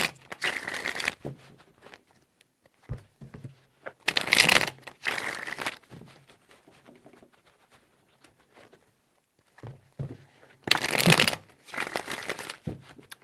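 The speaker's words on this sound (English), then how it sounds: "4 shuffles." Tarot cards being shuffled close up in several separate bursts of rapid riffling, with quiet pauses and light handling sounds between them.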